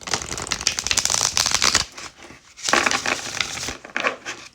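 Tarot cards being shuffled by hand in quick riffling bursts, a dense papery flutter for nearly two seconds, then a pause and two shorter bouts of close, crisp card noise.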